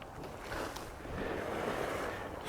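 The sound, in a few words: geyser pool bubbling and boiling, Yellowstone Norris Geyser Basin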